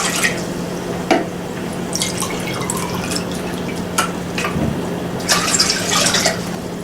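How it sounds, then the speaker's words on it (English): Water pours into a cooking pot for a stew, a steady close splashing and trickling stream with a few sharper drips and clinks throughout. "So we put water into pot first."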